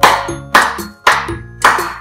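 Hands clap a few times, loud and close, at an even steady pace, with ringing tones behind them during a Spanish lesson for children.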